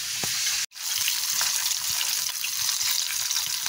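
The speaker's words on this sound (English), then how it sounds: "So this is the final fish that I'm frying" Fish sizzling in hot oil in a skillet, a steady close crackle and hiss with one brief dropout near the start, no voices.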